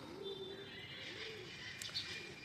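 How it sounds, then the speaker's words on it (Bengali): Pigeons cooing in low repeated rolls with scattered birds chirping, faint and somewhat distant against a quiet morning outdoor background. "খুব সুন্দর লাগতেছে পাখির গানটা।"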